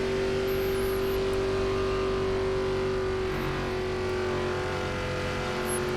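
NASCAR Gen4 race cars in iRacing on the Motegi oval: a steady, droning engine roar with a strong sustained tone that shifts as a car passes, loud and continuous without voices.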